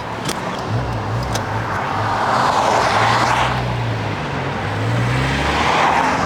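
An old scrap car drives along, its engine giving a steady, close, rough drone that rises and falls in pitch as it changes speed, with no talking over it.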